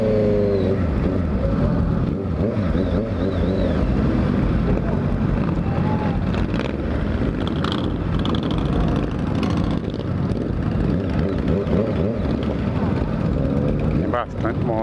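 Honda CBR 650F motorcycle arriving at a bike event, its engine a steady, loud drone close by that fills the whole stretch, with wind buffeting the microphone throughout.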